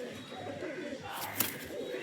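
Pigeons kept closed inside a wooden nest box give low, soft cooing that murmurs steadily through the background, with a faint rustle and no talking.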